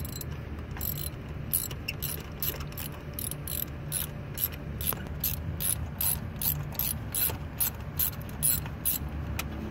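A ratchet wrench clicks in steady, rapid bursts while loosening a spark plug on a Honda Accord engine, the close metallic ratcheting repeating in quick strokes with brief pauses and no talk.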